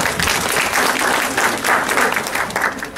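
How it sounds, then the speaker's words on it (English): An audience applauds at a fashion week evening show in a hotel in Nagaland, a dense, loud, steady clapping that fills the whole span. "give a round of applause for all of us here tonight for making this a reality."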